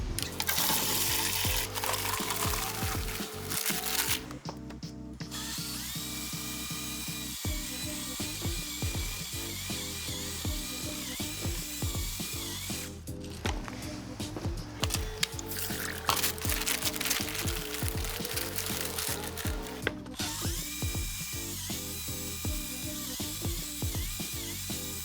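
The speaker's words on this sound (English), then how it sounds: "We mix a full 5-gallon bucket of thin set mortar." A drill whirs and grinds as it mixes a full 5-gallon bucket of thin set mortar, with continuous close mechanical churning, scraping and rattling throughout and a few brief pauses in the motor.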